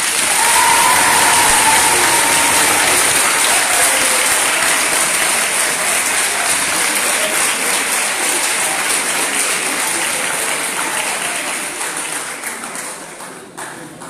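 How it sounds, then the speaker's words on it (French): A large audience at a university debate and eloquence event gives the next speaker thunderous applause, loud dense clapping mixed with some cheering that holds for a long stretch, then tapers off toward the end. "Veuillez faire un tonnerre d'applaudissements, mesdames et messieurs, à monsieur Sylvain Djibiane."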